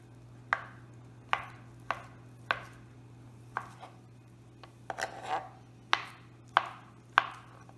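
A knife dices potatoes for a sticky potato salad on a cutting board, about ten sharp chops in an uneven rhythm with brief pauses, close and clear over a steady low hum.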